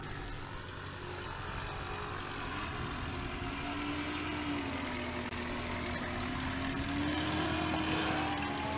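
STOL propeller airplanes taxiing back down the runway at a short takeoff and landing competition in Jennings, Louisiana, heard as a steady droning engine hum with slowly wavering pitch, moderately distant and gradually growing louder.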